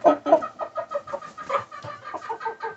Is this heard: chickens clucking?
yes